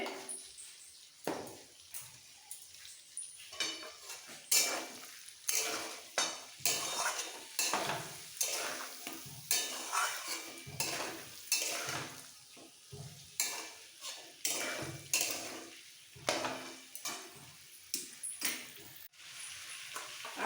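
Vegetables and drumsticks sizzle in a hot pan while a utensil scrapes and stirs in regular strokes, with occasional clinks of metal against the pan.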